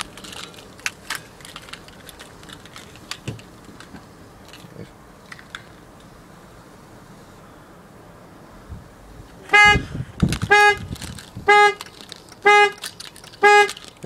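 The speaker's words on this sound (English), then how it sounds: "The alarm went off." The car alarm on a 2004 Chevrolet Venture goes off, a loud sequence of repeated horn honks in short irregular bursts after quieter clicking and handling noises close by.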